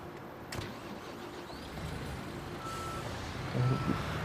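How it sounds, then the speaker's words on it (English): A dump truck reversing on a building site in the Construction Simulator video game, with a steady engine drone and a faint backup beep tone running throughout, growing slightly louder toward the end. "So we'll grab our dump truck and put it into place."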